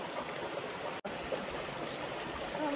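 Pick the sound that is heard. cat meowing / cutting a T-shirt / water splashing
water splashing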